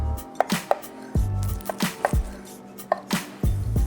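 A knife slices tortilla pieces in half on a cutting board, making a series of sharp, close chopping thuds at an uneven rhythm with brief pauses between cuts.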